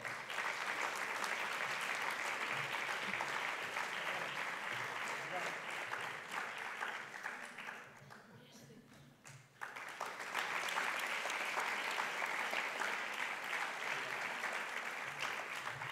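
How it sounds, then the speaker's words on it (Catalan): Sustained audience clapping at the Figueres Talent 2024 award ceremony, a dense, steady ovation that dips briefly midway, then swells back and carries on, with faint voices beneath. "però en tot cas l'aplaudiment li podem fer igualment"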